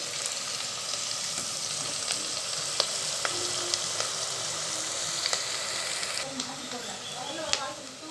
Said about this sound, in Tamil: வெங்காயம் ஓரளவுக்கு வதங்கி வந்துருச்சு பாருங்கள்